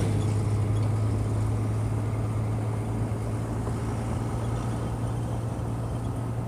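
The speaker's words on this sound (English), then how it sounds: "I'm going to wait for this truck to pass." A truck rolls past on the road beside a parked camper van, giving a steady low engine rumble and tire roar that holds fairly loud and then eases slightly, with no talking.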